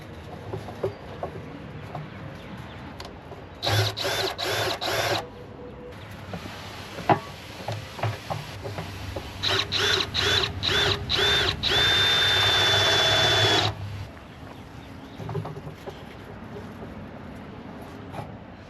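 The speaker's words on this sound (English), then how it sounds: "I'm gonna see if I can just drill right through the cement mixer into the brushes to fasten those things on." A power drill bores through the metal drum of a cement mixer in repeated short bursts and then one longer sustained run, whining loudly up close. Hens cluck faintly in the background.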